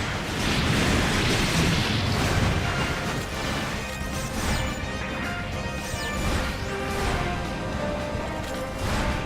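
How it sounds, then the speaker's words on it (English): Continuous crashing explosions from the Gundam Breaker 3 mech action game, dense and loud throughout with overlapping blasts and smashing impacts. "All I'm hearing is just explosion after explosion after explosion."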